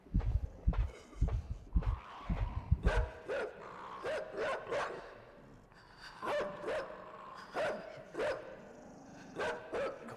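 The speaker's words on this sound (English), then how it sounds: "Don't you dare send that fucking dog over here to get me." Dogs barking in the video game Inside: sharp repeated barks in irregular bursts, some loud and close, others in quick clusters over a dark ambient backdrop, with no talking.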